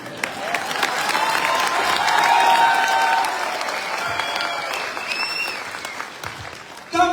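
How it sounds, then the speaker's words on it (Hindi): A crowd at a business meeting in Punjab claps steadily, swelling and then slowly thinning out, with a few scattered cheers in the mix. "पहले बजाओ ताली।"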